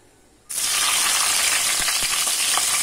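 Green chillies dropped into hot oil in a pan for a ridge gourd tomato curry, a sudden loud hiss bursting in after a short quiet moment and holding as a dense, steady sizzle with faint pops.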